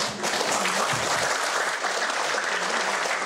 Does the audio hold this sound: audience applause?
yes